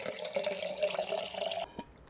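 Water poured for a drink, a steady close trickle of liquid filling a glass with a rising tone, cut off sharply before a brief quiet tail.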